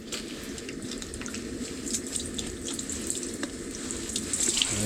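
Crappie fish rinsed under a running tap give a continuous splashing, gurgling stream of water with small irregular splatters, close and steady, with no voices.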